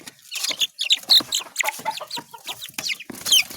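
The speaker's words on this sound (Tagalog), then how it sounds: "Ayan, nag-away-away po natin mga sisiw." Chicks scuffle and cluck in a rapid, overlapping stream of high, bright peeps and chirps, close and fairly loud, with no talk over them.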